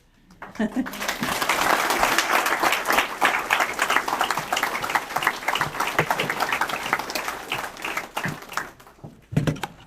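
Audience applause at a town hall meeting, a warm, sustained round of many hands that swells quickly, holds for several seconds and then tapers, with a voice briefly audible near the end.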